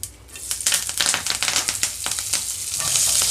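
Mustard seeds and curry leaves sizzling in hot oil for a tindora fry, a loud crackling spatter with popping bursts that swells toward the end, no talk.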